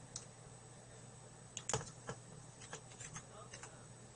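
Computer keyboard typing at a quiet desk, a few soft scattered key clicks and short bursts over a steady low hum, faint and close.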